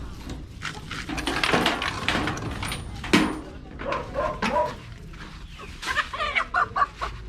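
Hens cluck and squawk in bursts, with a dog barking among them and voices talking nearby in a lively yard.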